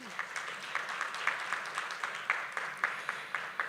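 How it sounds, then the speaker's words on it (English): Modest audience applause at a business forum, a smattering of distinct claps over a steady crowd wash, fairly quiet and continuous for a few seconds. "Would you please give them a round of applause?"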